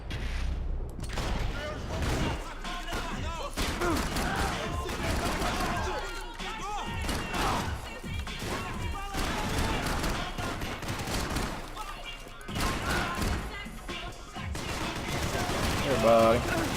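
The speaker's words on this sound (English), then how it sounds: "Let's see if I can just shoot the guy through him." In the video game Max Payne 3, repeated loud gunfire bursts and fusillades ring out over several seconds amid chaotic action noise, with voices occasionally heard among the shots.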